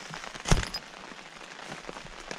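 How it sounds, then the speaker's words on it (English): Light patter of rain on a taut tent surface in Algonquin Park, with one sharper, louder drop near the start, then steady soft tapping. "It's raining this morning. It was raining all night."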